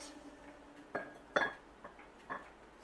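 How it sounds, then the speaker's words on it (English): A drinking glass clinks a few times while someone gets a drink of water, with sharp, close knocks at irregular intervals over a quiet room. "Ignore the sound of glass. I had to get a drink of water during that."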